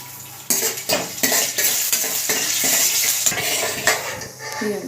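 Sizzling from a hot pan as tempering spices fry for carrot fry, with a metal spoon scraping and clinking repeatedly as the contents are stirred, close and fairly loud.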